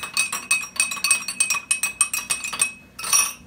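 Spoons stirring water test samples in glasses for a pH test, a rapid, steady run of bright clinks and taps against the glass, close and clear, with a brief pause before a final cluster.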